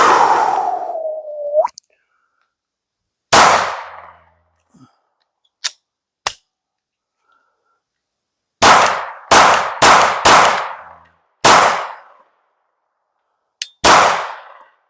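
A Glock 19 pistol fitted with an AIM Surplus barrel fires sharp, loud shots at an outdoor range, first one, then a quick cluster of four, then two more spaced apart, each ringing out briefly, with a short descending whine at the start.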